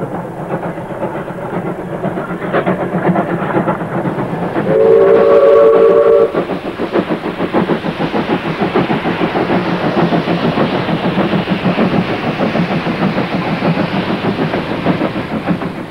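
A steam locomotive rumbles steadily along with rhythmic chugging and clatter as it is notched up, and a brief horn-like tone sounds early on, with no voices.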